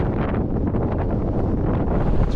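Strong wind buffets the microphone on an Arctic ferry crossing, a constant low roaring rumble with gusty fluctuations throughout.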